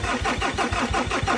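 A Ford Ranger engine cranks steadily with a rapid, rhythmic starter whir and loud pulsing turnover, close up, without catching and running.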